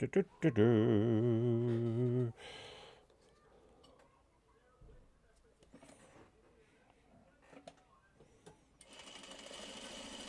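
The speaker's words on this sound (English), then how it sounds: "Then I can sew this one." A sewing machine stitches quilt block pieces in a short fast run of rhythmic mechanical whirring, close and loud, then stops while a person talks quietly amid faint handling of fabric.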